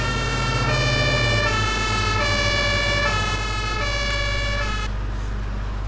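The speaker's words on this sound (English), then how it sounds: "That ambulance is in an awful hurry to get to the hospital." An ambulance siren in the OMSI 2 bus simulator game wails in a repeating two-tone pattern over a low engine drone, loud and close before cutting off near the end.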